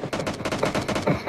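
Rapid automatic gunfire in the mobile battle royale game PUBG Mobile, a loud, dense stream of close shots in quick regular succession with no pause.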